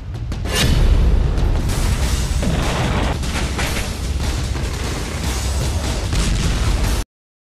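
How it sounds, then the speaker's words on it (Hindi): Bomb blasts in the Ukraine war, a sustained heavy rumbling roar with repeated booming bursts, loud and continuous for about seven seconds before cutting off abruptly. "यूक्रेन में युद्ध के बीच अब रोज हजारों बम धमाके हो रहे हैं"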